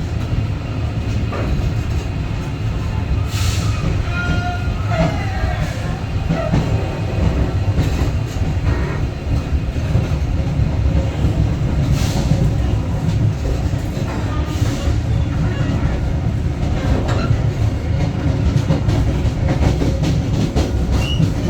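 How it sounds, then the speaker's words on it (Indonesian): The KA Rajabasa passenger train runs through Sumatra with a constant loud rumble and rattle from inside the carriage, rhythmic clickety-clack of wheels over the rails, and occasional faint squeals, steady throughout without talk. "Tepat jam 8:30 pagi, kereta mulai diberangkatkan"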